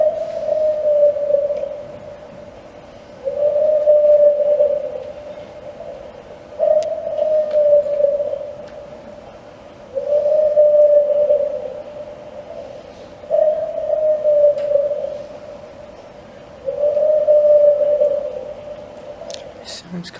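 A looped recording of a supposed Bigfoot scream mixed with coyotes plays back as a steady series of drawn-out, tonal wails repeating about every three seconds over faint hiss, sounding like distant howls through a speaker.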